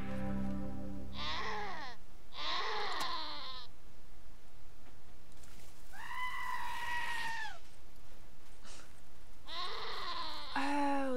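Goats in a video game bleating in several separate wavering calls, loud and close, with short gaps between them over a steady low background.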